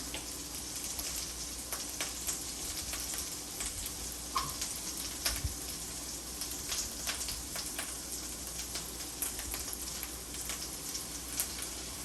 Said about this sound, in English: We're gonna let that keep browning just a little bit more.